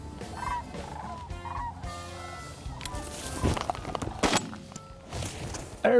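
Sandhill cranes give loud, repeated rattling calls during a hunt. Several overlapping bursts come from birds close by, and sharp thumps like shots or impacts break in toward the end. No one speaks.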